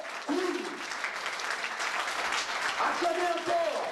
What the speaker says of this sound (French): Acclamez encore